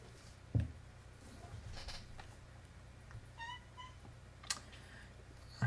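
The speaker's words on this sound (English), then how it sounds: "I hear my cat." A pet cat under a chair gives a few faint, brief meows amid quiet room hum, with soft rustles and a couple of small knocks nearby.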